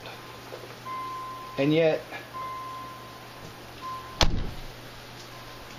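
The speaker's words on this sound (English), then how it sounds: "I don't know if you can hear that, but it's still beeping. Actually, it's a headlight warning, not a door jar." Intermittent electronic beeping from a car's headlight warning with the keys out of the ignition and all doors closed, a steady tone repeating a few times beside brief talk and a sharp thunk.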